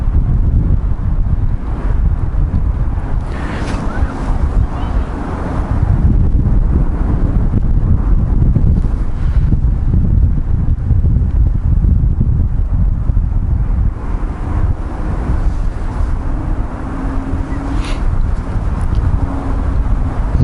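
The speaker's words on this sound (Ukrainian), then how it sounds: "Заважає, звісно, боковий вітер." Strong side wind buffets the microphone in a continuous low roar during winter spin fishing, gusting steadily throughout with no voices.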